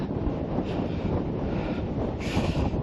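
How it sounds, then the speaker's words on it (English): Strong breeze at the beach with the tide out, buffeting the microphone in a continuous low rumble, with a faint rush of surf behind it and no talking. "it's very, very breezy"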